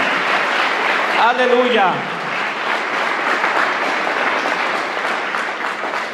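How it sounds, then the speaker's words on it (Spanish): A church congregation claps together during a Spanish-language worship service, a sustained broad rush of applause filling the room. A single voice calls out briefly near the start, and the clapping carries on steadily to the end. "Dale una ofrenda de aplausos al Señor"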